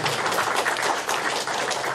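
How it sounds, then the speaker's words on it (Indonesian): An audience at a 2012 press association award ceremony applauds Governor Jokowi with a steady, dense wash of many hands clapping, held evenly for a couple of seconds. "Tepuk tangan buat beliau."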